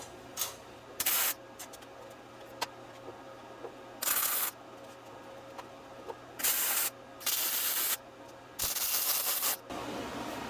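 Short tack welds go onto a homemade go kart frame built around a Predator 212 engine, heard as several loud, hissing bursts of one to two seconds with quiet gaps between them.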